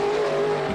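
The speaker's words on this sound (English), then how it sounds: "The team racing tough on the track" Race cars on a racing track, a steady close engine drone with a sustained tonal whine and faint tire noise, heard alone for under a second.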